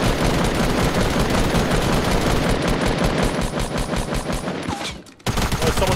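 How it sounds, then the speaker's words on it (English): Rapid, loud automatic gunfire from enemies shooting back in Fortnite, a dense stream of overlapping bursts that cuts to near silence for a moment before resuming. "Someone's shooting back!"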